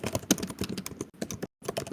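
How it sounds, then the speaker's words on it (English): Fast, uneven clatter of keys on a computer keyboard, close and fairly loud, in quick bursts with a brief pause near the end. "I know typing can be loud"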